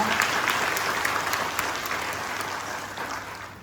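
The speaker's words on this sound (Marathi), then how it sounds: "टाळ्या वाजवायच्या" Steady, dense audience clapping fills the whole stretch at a padyatra welcome ceremony held by a seva mandal in Parbhani, staying loud throughout and easing slightly toward the end.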